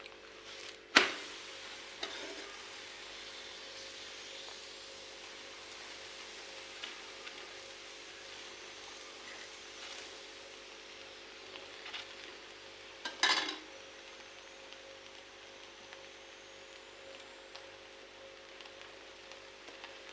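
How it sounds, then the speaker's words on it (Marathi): A sooji poli roasting crisp with ghee on a hot griddle gives a faint, steady low sizzle throughout, broken by two brief louder clattering touches, with no voices. "तर तूप टाकून खाता येते पोळी अशी करपूस भाजून घ्यायची"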